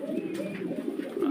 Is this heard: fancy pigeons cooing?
yes